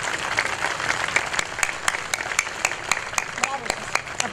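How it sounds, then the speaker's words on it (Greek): A crowd at an outdoor community event in a city square claps steadily for the neighbourhood police officers and their commander, dense even applause lasting throughout with a voice heard faintly over it. "Ένα χειροκρότημα όχι μόνο για τον κύριο διοικητή, αλλά για όλα τα παλικάρια που είναι αυτοί οι αστυνομικοί της δικής σας γειτονιάς."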